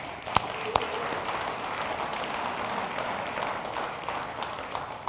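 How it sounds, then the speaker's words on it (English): Audience applause fills a township board meeting hall for the Orion Township State of the Township address, steady dense clapping throughout with a couple of sharp louder claps near the start. "That deserves a round of applause."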